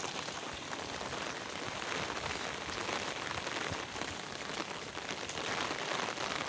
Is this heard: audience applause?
no